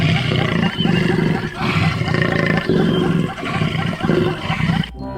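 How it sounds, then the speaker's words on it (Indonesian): A loud leopard roar from an animal toy, a big-cat growl with repeated rasping surges, heavy and close, cutting off abruptly near the end. "Wih, ini adalah seekor macan tutul."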